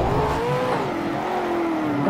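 A simulated LMP1 prototype race car in the Project Cars racing game, its engine note rising and holding steady as it accelerates hard, loud and continuous throughout with no talking.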